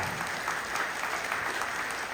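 Rally audience applauding, a dense steady wash of many hands clapping at a moderate distance, continuous throughout with no pauses.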